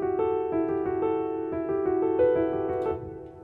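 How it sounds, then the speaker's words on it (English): Sustained piano notes ring out in a spacious wash of reverb, each chord blooming and lingering into the next before a soft tail fades. "That's quite a bit of reverb."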